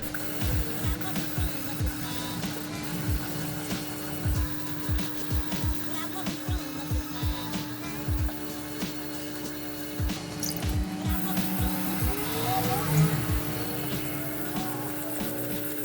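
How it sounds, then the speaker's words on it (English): A Kurosaki Aogami Super Fujin 120 mm petty knife is thinned on a 1000 grit whetstone, giving repeated rhythmic scraping strokes over a steady low hum. "we're gonna go over to the 1000 grit stone now, thin out the blade a little bit more"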